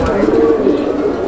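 Pigeons coo in a steady, close murmur for a brief moment at a Bangladeshi pigeon sale, the low throaty calls running continuously with no clear break.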